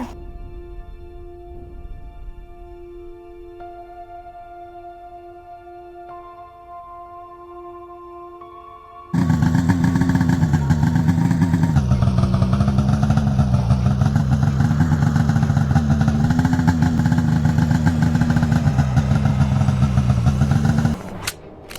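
Scooter engine in the game Antarctica 88 roaring steadily after a quiet tonal stretch, a loud buzzing mid-pitched drone with slight wavering revs, cutting off abruptly near the end.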